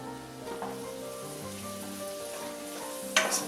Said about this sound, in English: Just want to get the onion started, be a little translucent.